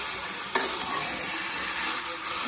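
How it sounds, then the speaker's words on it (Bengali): Chicken marinated in ginger, garlic, salt and turmeric sizzles steadily in a hot pan with whole chilies, a sharp clink at the start of the stirring, then continuous close frying hiss. "কষাচ্ছি"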